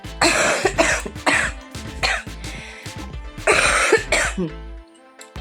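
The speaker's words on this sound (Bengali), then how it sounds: "কাশিটা না কিছুতেই ভালো হচ্ছে না" A person coughs repeatedly indoors, a series of about five loud, close, harsh bursts in uneven rhythm with a throaty rasp between them, then a quiet pause at the end.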